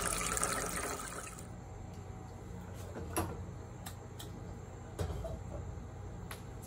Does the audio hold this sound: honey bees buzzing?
no